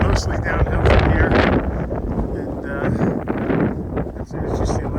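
Strong wind roars across the microphone on an exposed mountain summit, a steady loud buffeting with gusty swells throughout and no clear voice over it.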